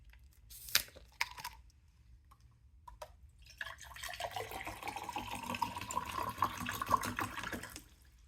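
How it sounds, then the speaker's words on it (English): Water pours steadily into a container for several seconds after a few scattered drips and splashes, a continuous close splashing stream recorded without a lavalier microphone that stops abruptly. "we are going to do a water pour test"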